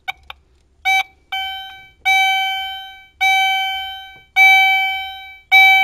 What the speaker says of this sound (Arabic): هذا هو الجرس الذي سينبه المارة عند الرجوع للخلف